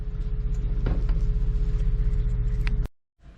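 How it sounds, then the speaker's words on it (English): A lifted 2008 Jeep Wrangler JK with a six-cylinder engine and 35-inch tires idles with a steady, close low rumble, then cuts off abruptly near the end. "It's a 2008 JK Jeep, lifted up 3 inches with 35s on it."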